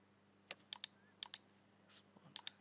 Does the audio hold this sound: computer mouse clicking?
yes